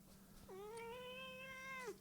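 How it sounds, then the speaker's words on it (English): A domestic cat gives one long, drawn-out meow that holds steady for over a second before falling away, close and clear over a faint steady hum in a quiet room. "You can't ignore the kitty forever"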